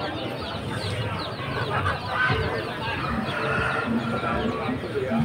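Chickens cluck and a rooster calls amid a busy bustle of background chatter and movement at a crowded chicken market.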